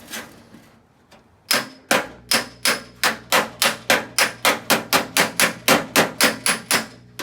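Hammer blows ring out on the steel wing of an MG TF1500, a few scattered hits then a steady run of about sixteen sharp, loud metallic strikes at an even rhythm.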